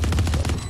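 Rapid burst of automatic gunfire in a tactical shooter video game, loud and close, a quick string of sharp shots lasting under a second.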